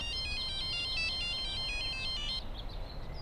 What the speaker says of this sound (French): Sid, oncle Bablou au téléphone, parle-lui